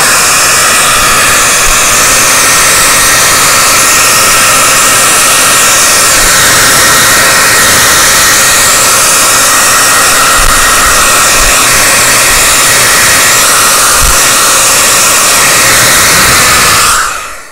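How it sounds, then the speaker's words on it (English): A hair dryer blows steadily and loudly for the full stretch to dry a layer of paint on metal for a rust effect, a constant roaring hiss that cuts off at the end. "I'll pull out my hairdryer again. There we go. Just to get this final layer dry."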